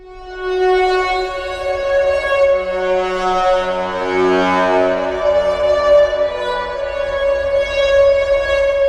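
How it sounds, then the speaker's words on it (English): An expressive synthetic string patch from a Vital synth preset holds a sustained chord that swells and shifts gently in a smooth, continuous pad, close and clear with no voices. "Classic synthetic string stuff"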